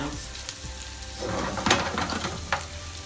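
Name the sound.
onions frying in pan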